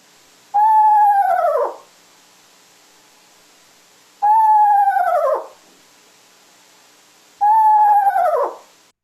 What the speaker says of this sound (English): we are going to hear the call of the eastern screech owl